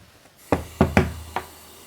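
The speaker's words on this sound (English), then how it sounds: "I'm gonna flip it back over to open it." Four hollow knocks and clunks as an Aldi quesadilla maker is flipped over and handled on a counter, close and uneven in rhythm, with no speech.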